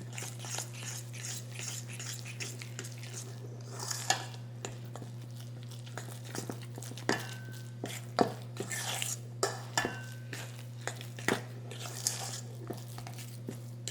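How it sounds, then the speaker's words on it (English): Spoon scraping and tapping through thick vegan pumpkin doughnut batter with maple syrup in a bowl, irregular soft clacks and knocks over a steady low kitchen hum, close and fairly quiet with no talking. "So I'm just gonna mix this properly."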